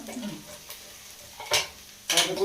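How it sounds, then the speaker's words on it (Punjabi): Onions fry in a pan for saag, a quiet sizzle broken by two short bursts of stirring or scraping near the end, close and fairly soft. "ਇਹਨੂੰ ਚੰਗੀ ਤਰ੍ਹਾਂ ਭੁੰਨਣਾ ਠੀਕ ਆ ਓਕੇ ਲਾਲ ਕਰਨਾ ਲਾਲ ਪਿਆਜ਼ ਨੂੰ ਪੂਰਾ ਲਾਲ ਕਰਨਾ ਆ"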